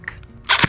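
A single sharp crack from a G&G SSG1 airsoft gun with a Firehawk trigger, brief and close, after a couple of faint clicks.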